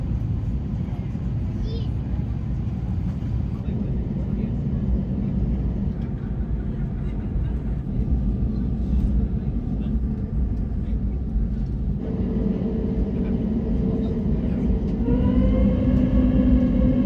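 A British Airways Boeing 787 takes off from Dublin, heard as a steady, loud broadband engine roar that builds and gains a rising tonal whine in the last few seconds, with faint voices in the background.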